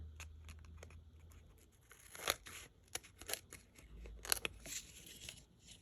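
Scissors snip through thin decoupage rice paper close up, quiet crisp cuts and faint paper rustles coming in short irregular bursts with brief pauses between them.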